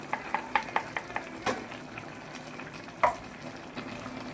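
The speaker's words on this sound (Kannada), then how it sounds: "ಎಲ್ಲವನ್ನು ಚೆನ್ನಾಗಿ ಮಿಕ್ಸ್ ಮಾಡ್ಕೊಳ್ಳೋಣ." A spoon stirs ground coconut masala into chicken sambar in a pan, giving a series of close, crisp scraping clinks in a steady rhythm over a soft sizzle, with a sharper knock midway.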